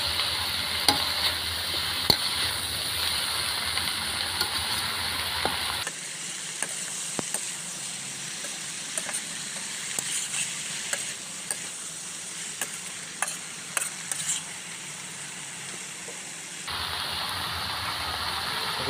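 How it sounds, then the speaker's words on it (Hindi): Green vegetables frying in a pan with onion and ginger-garlic paste, a steady close sizzle with occasional clicks of stirring, continuing throughout with a brief quieter stretch in the middle. "अब अदरक लहसुन के पेस्ट के साथ भी इसको अच्छे से फ्राई करेंगे।"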